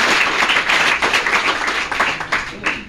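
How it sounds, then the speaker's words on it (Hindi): An audience at a 2023 quiz competition applauds warmly with dense, sustained clapping that fades slightly toward the end. "हमारे ऑडियंस फिर एक बार इसके लिए जोरदार तालियों के साथ स्वागत करें"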